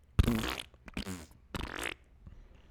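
A human voice imitates a fart noise: three loud, sputtering, buzzing raspberry bursts, close to the microphone, with short pauses between them.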